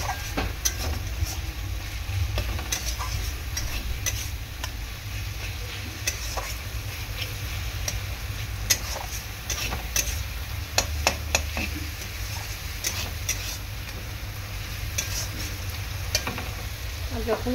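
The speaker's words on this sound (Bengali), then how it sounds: "ধনে আর জিরে গুঁড়ো দিয়ে একটুখানি এরকমভাবে মশলাটা কষিয়ে নেব।" Ground coriander and cumin spice paste sizzles in a pan with a little water, stirred continuously, with a steady broad frying hiss and scattered spoon scrapes throughout, no talking.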